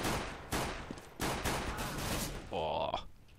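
Gunfire from Counter-Strike on de_inferno, a few sharp bursts of shots spaced across the moment, heard under excited commentary.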